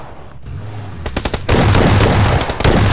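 Gunfire in CS:GO starts with a quick string of separate shots after a quiet moment, then turns into a dense, loud burst of continuous automatic fire up close.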